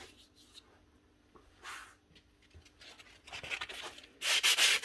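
Plastic fan from a Milwaukee M18 impact wrench being shaved down by hand during a repair, soft scraping and rubbing strokes that grow louder toward the end.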